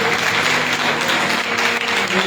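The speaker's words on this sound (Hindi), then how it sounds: "जोरदार तालियां जाएंगे, भेज दीजिए" Sustained audience applause at a Hindi Christian sermon on the seven sayings of Jesus on the cross, a steady dense wash of clapping over faint tonal background, loud and continuous.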